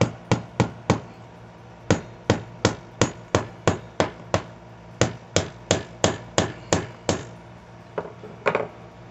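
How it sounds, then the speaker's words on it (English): A hammer strikes a pop toggle anchor into a hole in a wall, sharp close knocks coming in quick pairs and singles at a steady pace, ending in a few lighter taps. "hammer it"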